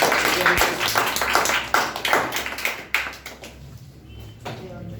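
Audience clapping in a school or assembly setting, a scattered but lively round that thins out toward the end while a faint voice speaks.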